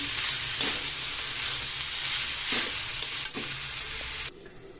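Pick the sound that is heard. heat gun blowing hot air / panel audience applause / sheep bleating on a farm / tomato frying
tomato frying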